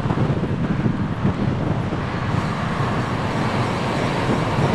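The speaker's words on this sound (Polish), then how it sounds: "Chyba ktoś włączył wiatr. Zapowiadany. 25 na godzinę." Strong gusting wind roars steadily across the microphone while cycling a gravel bike on a route around the Tatra mountains, a continuous loud low-frequency buffeting with no other clear sounds.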